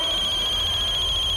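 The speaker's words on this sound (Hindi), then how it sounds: "किसका फोन बजा बे?" A telephone rings in a tense indoor crime-drama scene, a steady electronic ringing tone sounding continuously and fairly loud over a low background rumble, with no talk.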